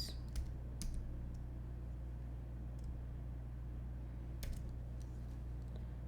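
Faint, sparse keyboard tapping over a steady low hum, with a few scattered keystrokes at irregular intervals.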